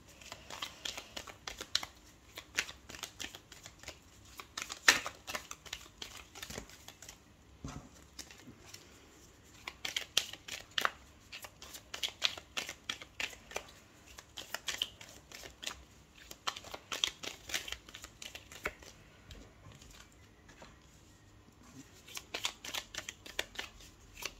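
A deck of oracle cards is shuffled during a weekly Scorpio reading, giving repeated bursts of crisp papery riffling and flicking with short pauses between them, close and fairly quiet, with no voices.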